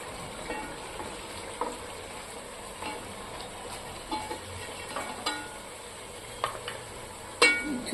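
Fish frying in a pan for Telugu fish curry (konam chepala pulusu), a faint, steady sizzle in the background with occasional soft clinks and scrapes of a utensil, close but quiet.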